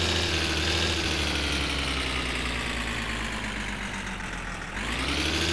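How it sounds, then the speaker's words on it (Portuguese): A car engine in the driving game My Summer Car is revved hard and held, giving a loud, steady droning roar that dips briefly near the end and then climbs again. No one talks. "O carro já ligou, pelo menos. E a gente tá acelerando ele pra caramba."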